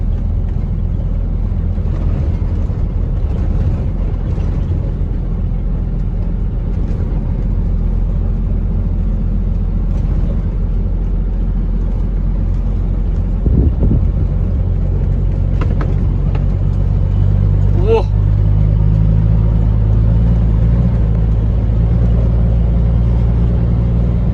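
A car drives along a road with water on it, giving a loud, steady low engine and road rumble that holds throughout, with a few faint knocks and rattles.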